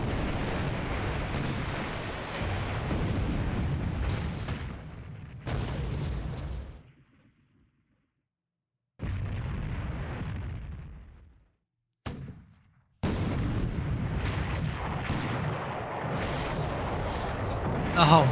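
A 40mm gun firing in a naval war video game during a PT boat attack: heavy booming bursts separated by abrupt silent gaps, with a voice talking over the action.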